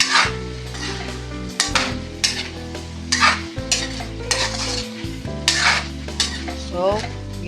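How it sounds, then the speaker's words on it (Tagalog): Mixed vegetables with boiled mung beans are sautéed in a pan, with a utensil scraping and stirring in repeated strokes over a continuous close sizzle. "Gisa-gisa hanggang maluto."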